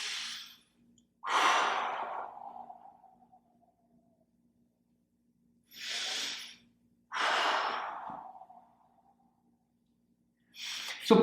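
Slow, deep exhalations during a stretching exercise, four breathy gusts spaced out over several seconds, each trailing off softly, close to the microphone with no talking.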